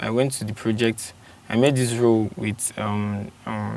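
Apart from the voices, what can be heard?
No everyday noises stand out.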